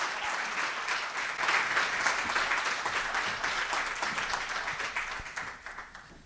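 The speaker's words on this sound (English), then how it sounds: "let's give one more cheer for the chair of the FCC, Jessica Rosenworcel" An audience at an education policy roundtable applauding the chair of the FCC, with sustained, dense clapping from a room full of people that swells, then slowly fades out over several seconds.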